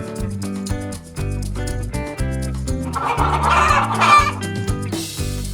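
A hen clucks repeatedly over background music, the clucking growing busier and louder midway before settling.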